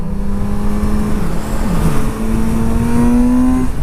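A 2018 Kawasaki Z900RS motorcycle engine on the road, loud and close, holding a steady drone that rises in pitch as the bike accelerates, with a brief dip midway.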